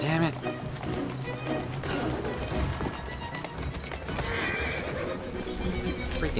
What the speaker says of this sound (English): The horses is trying to kill me now.